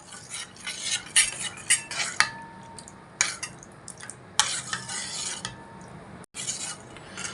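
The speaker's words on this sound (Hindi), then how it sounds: "इन्हें अच्छे से मिक्स कर लेना है।" A spoon clinks and scrapes steadily against a small bowl while stirring a mixture of coffee, amla juice and lemon juice, making repeated bright metallic taps with brief pauses.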